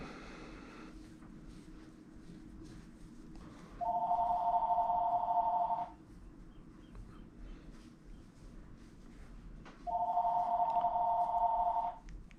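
A telephone rings twice in a workshop during maintenance on a Helix pedal drive lower unit, each ring a steady two-second electronic trill, fairly faint and distant over a quiet room hum, with no speech.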